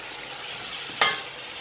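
Beef with bones and ndolé ingredients frying in a pan give a steady, soft sizzle, with one brief louder hiss near the end as the pan is stirred; no voices.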